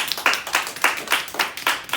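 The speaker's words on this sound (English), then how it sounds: "So let's give ourselves a round of applause." Scattered hand claps from a small audience at a Redken hair education class, a few distinct claps in an uneven rhythm, close and fairly light, with no talking over them.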